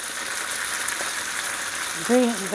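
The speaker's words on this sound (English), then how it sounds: "this looks like it's getting a really good sear on it" Beef sears in a hot pan with a steady broadband sizzle, close and constant, and a voice briefly speaks near the end.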